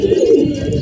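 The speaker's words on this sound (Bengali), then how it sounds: "এই হচ্ছে আমার মাদি কবুতরগুলো" Female pigeons in a home loft coo in a low, steady, throaty murmur, loud and close, with no one talking.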